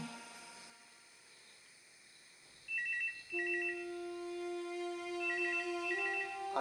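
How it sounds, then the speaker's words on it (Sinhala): A mobile phone ringtone plays a bright, repeating melodic pattern that starts a few seconds in and continues steadily, loud and close, with no voices. "අංජුලා අංජුලා ඇයි ඔය ෆෝන් එක රිංගන පොඩ්ඩක් බලන්නකෝ."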